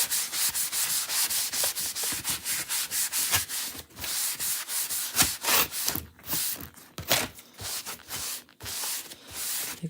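Steady back-and-forth rubbing as wax is worked by hand into a chalk-painted wooden tier tray, a close, rhythmic scuffing that speeds up and pauses, with no talking.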